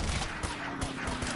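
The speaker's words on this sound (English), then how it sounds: "Oh, and a machine gun." Machine gun fire in Uncharted: Drake's Fortune, a dense rattling burst of rapid shots close by, loud and continuous over a low game rumble.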